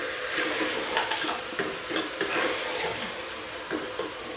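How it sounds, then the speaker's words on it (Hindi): Mutton frying and being stirred in a karahi for a dhaba-style curry, a steady hiss of hot oil with repeated scraping strokes of the spoon against the pan, close and alone. "मटन को हम इतना फ्राई कर लेंगे कि इसका कलर चेंज हो जाए।"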